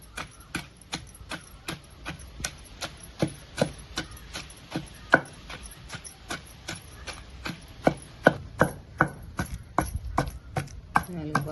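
Soaked tamarind and other ingredients are pounded together into a raw banana yogurt chutney with a steady stream of sharp, close knocks, repeated quickly and evenly with no talking.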